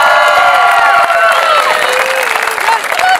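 Crowd at a high school graduation ceremony cheering and clapping loudly, with shouts and whoops rising over a continuous wash of applause.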